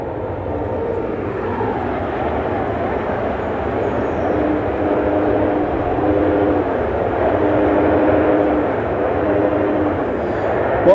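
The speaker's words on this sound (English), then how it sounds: "Now they're all revving the engines." A massed roar of about 100 motorbikes revving their engines at a hospital, a steady broad rumble that swells and holds for the whole stretch, heard from some distance.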